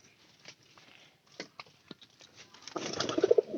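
A pigeon coos softly up close in a burst of low throaty calls near the end, after a stretch of faint scattered taps and rustles.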